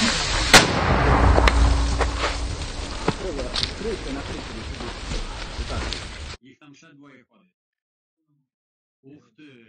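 Several sharp, loud gunshots boom over a rumbling, crackling din on the Bakhmut front line, then it drops to near silence with brief voices speaking.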